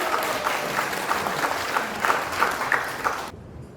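Party members at a political policy forum clap to welcome a candidate, brisk crowd applause with audible individual claps that cuts off abruptly near the end.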